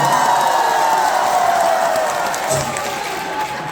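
A loud, dense crowd at a fan meeting claps and cheers continuously, with whoops mixed into the roar, fading slightly toward the end.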